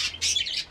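Budgerigar parakeets chirp and squawk in a few close, bright bursts, with no talking.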